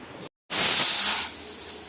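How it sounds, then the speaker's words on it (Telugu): A pressure cooker boiling brinjal dal vents a loud, close rush of hissing steam that bursts in after a short silence, holds strongly, then eases to a steadier hiss. "పప్పు విజిల్ అయితే వస్తుందండి, చూడండి."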